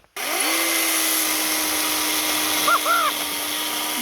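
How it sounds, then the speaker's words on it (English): A tiny high-torque chainsaw starts abruptly and runs at a steady high-pitched whine, cutting wood along the grain into strips. The tone holds even and close throughout, with brief warbling squeals near the end. "Noodling is cutting along the grain, okay?"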